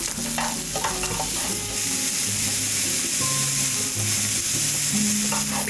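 Shiitake mushrooms sauté in sesame oil over high heat in a pan: a continuous close sizzle and crackle, with occasional spatula stirring and scraping, and no talking.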